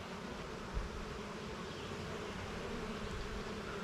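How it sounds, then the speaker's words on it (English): Honeybees drone in a steady, faint, continuous buzz around an open hive during nuc making, with no voices over it. "These bees look pretty good."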